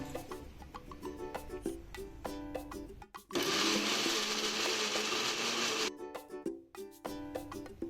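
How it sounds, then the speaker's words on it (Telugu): A mixer grinder blends ponnaganti leaves with tamarind for chutney. Loud, steady whirring for about three seconds mid-clip, framed by clattering and shaking of the jar before and after. "ఇప్పుడు వీటిని మిక్సీ పట్టుకుందాం."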